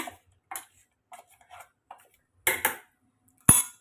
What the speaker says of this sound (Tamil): தண்ணி சேர்த்துட்டு இப்போ இதை கலந்து விட்டுக்கோங்க